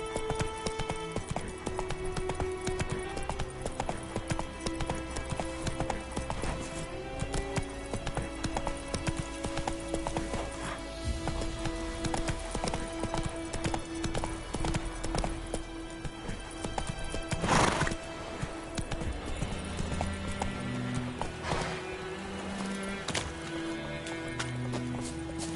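Horse hooves clip-clop in a steady galloping rhythm in The Witcher 3 remastered, with saddle jingle, an occasional whinny and light rain layered over a game soundtrack, continuous and close.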